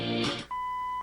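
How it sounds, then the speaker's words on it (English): A short electronic chirp followed by a clear, steady high-pitched beep lasting about half a second, close and distinct, from an Oldsmobile car stereo's control as it is rotated. "There's our beeps."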